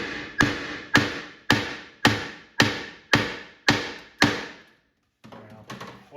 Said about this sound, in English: I wonder if I can hammer that Bondo out of there